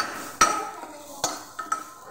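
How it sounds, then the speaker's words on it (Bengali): Onions frying in oil in a wok are stirred with a utensil, giving a few sharp scrapes and clinks against the pan over a faint, steady sizzle, heard close up with no talking. "পেঁয়াজটাকে ভালো করে নাড়িয়ে চাড়িয়ে নেব।"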